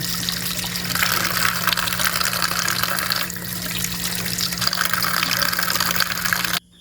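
Water streams steadily from a tap into a pot of eggs being salted, a continuous close splashing fill that runs unbroken for several seconds before stopping abruptly.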